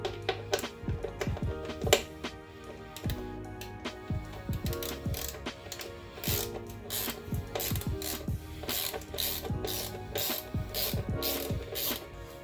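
A ratcheting tool backs T30 Torx screws out of a BMW R1250GS motorcycle bash plate, giving a steady close run of rapid metallic clicks with brief pauses between screws.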